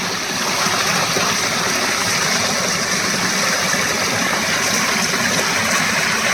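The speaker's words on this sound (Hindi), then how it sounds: "ये देखिए इतना पानी यहाँ पर" Water runs over a village road in Himachal where no culvert has been built, making a loud, continuous broadband rush and gurgle that stays steady throughout, up close, with no speech.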